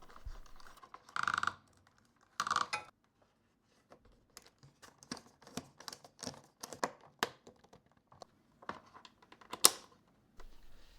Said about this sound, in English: You just put them in position and screw them in.